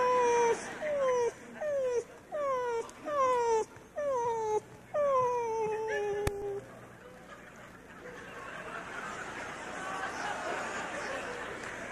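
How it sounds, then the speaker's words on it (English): A puppy whimpers in a rapid series of about eight high, falling whines over six seconds. The whines stop abruptly after a click, leaving steady room noise. "And leave the puppy outside."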